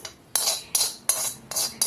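A metal spoon clinks and scrapes against a pan five times in an even rhythm while tempering is stirred into capsicum chutney. Each stroke is a sharp, bright hit followed by a short scrape, close by, with no voices.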